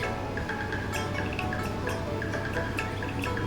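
Household utensils being washed and wiped with water: a steady wash of running, trickling water throughout, with soft intermittent drips and light clinks, moderately close and without speech.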